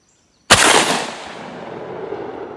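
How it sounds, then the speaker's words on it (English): A 10-gauge shotgun fires a socket slug at a clay target on a range: a sudden, very loud single blast after silence, then a long rumbling echo that fades slowly. "I'm going to try to shoot the top clay there on top of the box"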